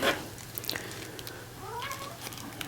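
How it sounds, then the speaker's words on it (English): A house cat meows several times in a room, fairly faint and drawn out, with rising and falling cries over a steady low hum. "here comes the cat again"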